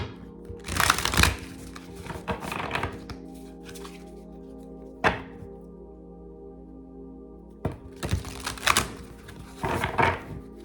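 Tarot cards are shuffled close by in several brisk bursts of riffling and flicking, separated by quiet pauses and a couple of sharp taps.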